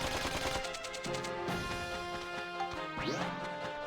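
Rapid gunfire in the game Dark Cloud 2, a run of sharp, loud shots fired in quick succession over a steady musical backing, with crashing impacts and a rising whoosh near the end.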